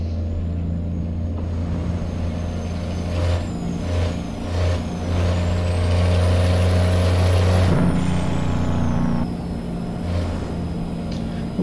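Cummins M11 diesel truck engine rated at 535 horsepower in American Truck Simulator, in a Peterbilt 379-style truck, with a steady loud low rumble that swells and revs briefly, alongside an air brake hiss and a rising whine.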